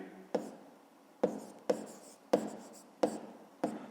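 A pen or chalk strikes sharply while writing out a math solution, making six distinct taps with short scratchy tails at uneven intervals, close and quiet.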